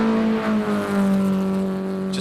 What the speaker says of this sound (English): Just wonderful to hear the sounds of these cars going up this hill as well.